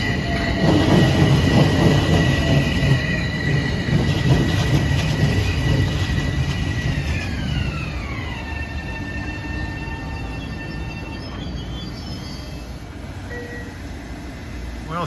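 A Metro North train arriving at North White Plains on the 3:59 all-stops run from Grand Central, loud and close with rumbling wheels, rail clatter and a long rising-then-falling wheel squeal as it slows.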